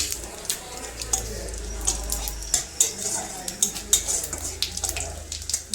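Dried red chillies and cumin fry in a pan, a low sizzle running beneath repeated sharp scrapes and clinks of a spatula stirring against the metal.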